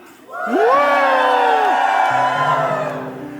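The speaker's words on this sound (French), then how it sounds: "un cri de joie avec vous." Joyful shouting from a church congregation at a worship service swells into a loud sustained crowd roar with rising whoops and cheers over a held note, staying strong and then easing slightly toward the end.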